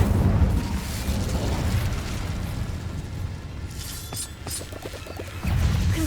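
Incendio fire spell in the video game Hogwarts Legacy, a roaring burst of flame that fades into a crackling, rumbling tail, then surges again near the end, with game music underneath.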